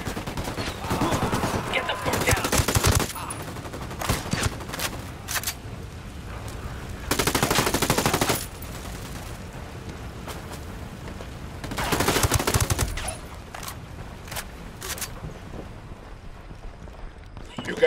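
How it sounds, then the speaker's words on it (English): Gunfire rattles through a firefight in Ghost Recon Wildlands: three dense bursts of automatic fire, each a second or so long, with scattered single shots and clatter in between. "I'm opening fire."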